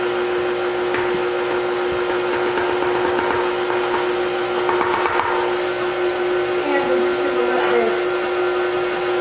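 Electric mixer running through pumpkin bread batter, a continuous steady whirring hum with faint clinks against the bowl, heard under a person talking.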